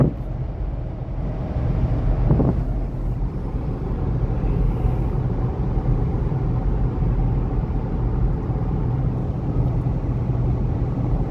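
A car on a road test after a fuel injector repair gives a steady, even engine and road rumble from inside the cabin, with no talking.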